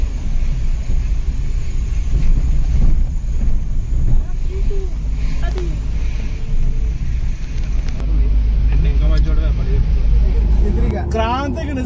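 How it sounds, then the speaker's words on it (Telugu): A car grinds up a steep ramp toward Jakhu Hanuman Temple in Shimla in first gear, a loud continuous engine rumble with wind buffeting, while people talk over it. "ఫస్ట్ గేర్ లో ఎక్కిస్తున్నాడు బండి మొత్తం."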